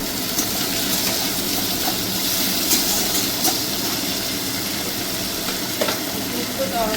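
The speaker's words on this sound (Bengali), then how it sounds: "পেঁয়াজটা ভালো করে ভাজা হয়ে যাচ্ছে" Onions fry in a pan for a chicken moglai curry, giving a steady, close sizzle with scattered light clicks and stirring scrapes running evenly throughout, with no one speaking.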